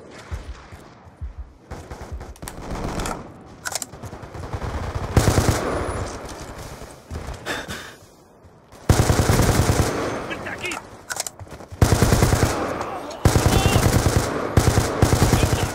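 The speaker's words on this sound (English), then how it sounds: "Oh god, I'm getting shot at." Rapid automatic gunfire in a first-person shooter video game, with an M8A1 rifle in play, comes in dense loud bursts that start and stop repeatedly across the clip, with brief quieter gaps between volleys.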